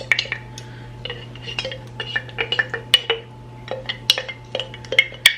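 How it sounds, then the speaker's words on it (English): A spoon stirs mustard into ketchup in a small dish, giving a run of light, close clinks and scrapes against the dish at an irregular rhythm, with no talk over it. "So I'm just going to add a tiny bit of mustard to the ketchup. Just kind of stir that about."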